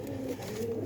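A domestic pigeon in a loft coos in a soft, low, continuous rumble for a brief moment, close by and with no voices over it.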